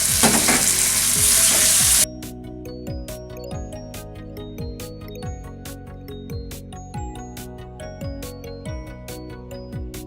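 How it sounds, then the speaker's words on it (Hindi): Tomatoes hit a hot frying pan for a dhaba-style mixed vegetable sabzi, with a loud burst of sizzling for the first two seconds before it settles into softer frying under repeated metallic stirring clinks. "अब टमाटर ऐड कर देते हैं।"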